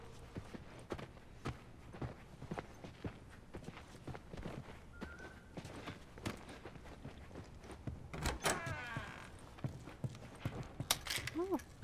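Horse hooves clip-clop in The Last of Us, a steady walking rhythm of soft thuds close by, with brief outdoor rustles and a short voice near the end.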